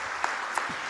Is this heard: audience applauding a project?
yes